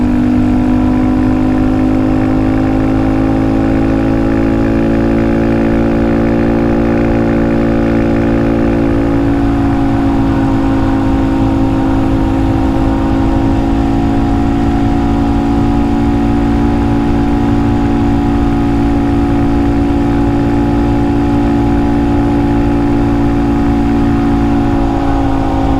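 A Honda Monkey motorcycle engine hums steadily during an evening ride. The drone is loud and close, and its pitch shifts partway through, then holds steady again. No voices are heard.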